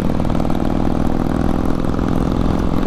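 New Harley-Davidson Nightster motorcycle cruising in fourth gear, a loud, steady engine drone with a deep rumbling throb and constant wind roar, heard from the rider's position.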